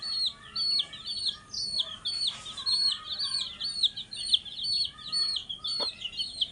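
Broiler chicks and chickens keep up a constant chorus of high, repeated cheeping, with the occasional cluck from grown hens in a farm pen. The chorus is close and lively throughout.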